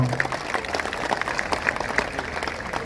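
Scattered audience applause for an honored guest during a Bali governor's year-end speech, moderate and fairly even clapping in a large hall, with a faint voice underneath.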